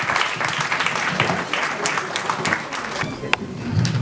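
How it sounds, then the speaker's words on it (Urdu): An audience at an International Women's Day event gives a speaker a welcome with dense, loud applause sustained for several seconds, with a few sharper claps standing out. "خواتین و حضرات بھرپور تالیوں سے استقبال کیجئے افضل خان"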